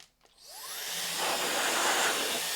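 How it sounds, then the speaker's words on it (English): A small cordless blower on a Dewalt 20V battery spins up from silence with a rising whine, then settles into a steady, loud, close airy roar. "So here's this little blower."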